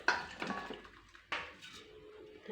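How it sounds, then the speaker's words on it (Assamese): Soybean and tomato curry tipped from a cooking pot into a serving bowl, heard as a few sharp, close metallic clanks and scrapes of pot and spoon against the dish, with no voices. "এতিয়া মই চব্জিখিনি নমাই ইয়াতে বাচনত মই ঢালিম"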